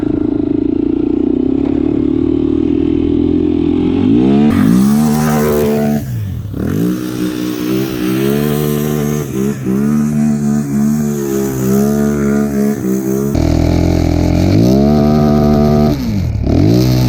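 A stock Honda 400ex ATV engine revs hard and accelerates up through the gears, loud and close, with rising and falling harmonic sweeps and brief dips between shifts, running continuously with no talk.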